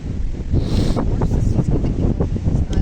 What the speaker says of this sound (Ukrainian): Вітер подув.